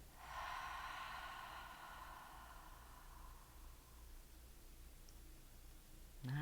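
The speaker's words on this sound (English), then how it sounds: "Take a big inhale" One deep, open-mouthed inhale during a breath work exercise, a close, breathy rush of air at the start that tapers off into near silence before a brief soft click.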